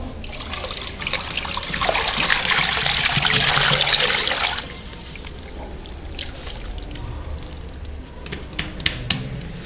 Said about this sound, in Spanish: Voy a agregar más agua a este preparado.